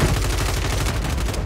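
Sustained fully automatic fire from a RAM-7 assault rifle in Call of Duty, a rapid, evenly spaced stream of loud close shots with no pauses.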